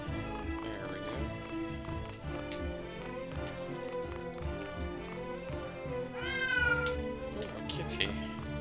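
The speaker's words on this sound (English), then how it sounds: "It is a kitty" A cat meows in the Triangle Strategy video game, one clear rising-falling mew near the end riding above busy background game music with plucked and sustained tones.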